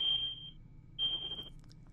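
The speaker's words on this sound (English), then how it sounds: "The fire alarm is going off." A household smoke/fire alarm going off at a house: two high, piercing electronic beeps about a second apart, moderately faint over room noise, with no talk.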